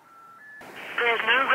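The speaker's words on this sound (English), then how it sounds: "So when I dial the phone number, it will call it via my mobile phone" Telephone dialing through an Xlink BT2 Bluetooth adapter on an old phone: a faint steady tone, then a clearer higher tone, followed by louder warbling ringback-like tones with no one speaking.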